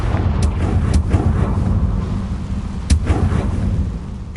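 Confringo blasting spell from Hogwarts Legacy going off as a series of loud booming explosions, with sharp cracks near the middle and end over a constant rumbling background.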